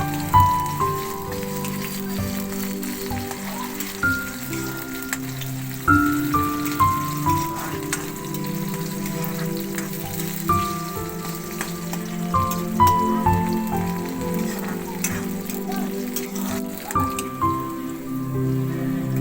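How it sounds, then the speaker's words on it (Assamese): Onions fry in a pan on a gas stove for arhar dal, giving a continuous close sizzle with scattered pops and crackles and no voices. "পিঁয়াজটো ভালকৈ ভজা হ'ব লাগিব।"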